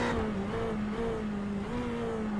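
Race cars, a BMW and a Ferrari 488, racing at Oulton Park, heard as a steady, droning engine note with small pitch shifts as they hold speed, at a moderate distance and with no voices.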